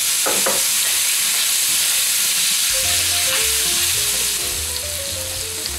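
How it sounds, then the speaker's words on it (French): Onions added to frying squid in a hot pan for stuffed calamari, a loud, dense sizzle with a few early clatters, then a steady hiss under a faint tonal hum. "J'y ajoute les oignons."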